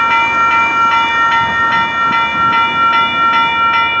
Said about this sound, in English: Did not see this train coming.